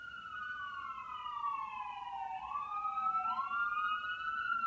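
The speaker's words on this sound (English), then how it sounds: "I don't want to be shouting over a siren." An emergency vehicle siren wails outside, its pitch gliding down and back up in a slow sweep. It sounds moderately distant over faint background noise.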